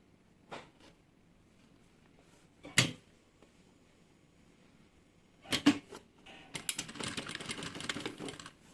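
A sewing machine stitches a zipper onto a toiletry bag: a few short, separate bursts of stitching in a quiet room, followed by a longer, steady run of rapid needle clatter near the end.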